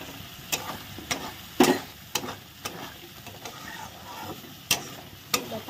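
Spice masala with cumin powder, paneer masala and a little water is fried and stirred in a pan, making a low steady sizzle punctuated by sharp, irregular spatula knocks against the pan, close by.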